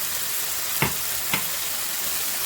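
Carrots heating through in a hot frying pan with garlic, a steady soft sizzle broken by two brief stirring scrapes, close and even throughout.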